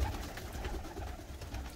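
Pigeons coo softly and continuously inside a coop, a low murmuring warble with no clear gaps, close by and moderately quiet, with no talking.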